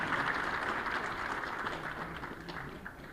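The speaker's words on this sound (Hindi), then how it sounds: "तालियों से स्वागत कीजिए, बहुत ही उत्साह के पल हैं।" A crowd applauds with dense, steady clapping that slowly fades a little, somewhat distant and moderately loud.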